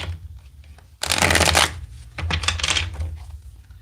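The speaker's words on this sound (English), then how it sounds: "Let me shuffle this other deck real quick." A deck of cards is riffled and shuffled up close in two quick bursts of dense flapping clicks, the second burst broken into separate riffles, with a quiet pause in between and no talk.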